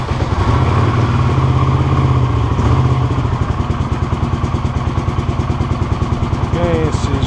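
A cold 1982 Honda CX500 motorcycle engine idles around 1000 rpm with light choke, a loud, close, steady rhythmic chugging with mechanical clatter, while someone talks over it.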